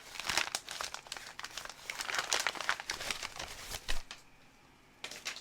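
Crinkling and rustling of packaging while a Tangem Ring is unboxed, close and continuous for several seconds, briefly pausing before one last crinkle.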